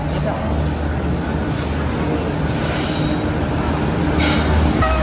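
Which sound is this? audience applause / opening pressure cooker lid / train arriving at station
train arriving at station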